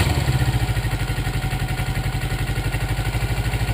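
A 1984 Yamaha Maxim 400 motorcycle engine idles close by with a steady, even low putter of regular firing pulses and no revving.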